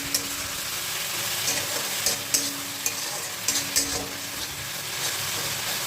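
Fish curry with coriander leaves simmers and sizzles in a frying pan, with a few sharp scrapes and clinks of a spoon stirring against the pan.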